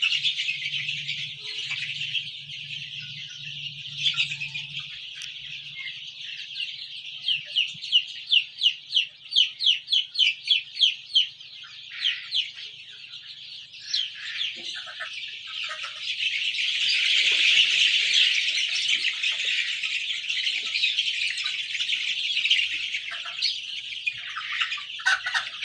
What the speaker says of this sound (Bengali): এখানেও সোনালি, ফাউমি এবং দেশি মুরগি।